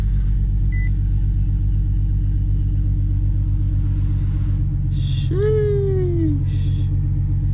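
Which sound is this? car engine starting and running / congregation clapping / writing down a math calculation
car engine starting and running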